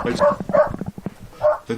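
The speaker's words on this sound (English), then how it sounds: "Whoever has the dog in the background, could you please mute yourself?" A dog barks in the background of a video call, several yapping barks in quick bursts picked up by a laptop microphone, fairly loud and close.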